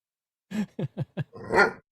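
A dog barks four times in quick succession, close and fairly loud, then lets out a longer whining bark.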